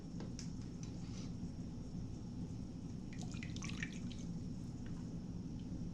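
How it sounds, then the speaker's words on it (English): Chicken stock dripping slowly through a strainer lined with muslin cloth, poured by ladle; faint scattered drips and small trickles over a steady low kitchen hum, with a brief clustered patter midway. "with the help of a ladle I'm just going to pour the stock and I will strain it very slowly"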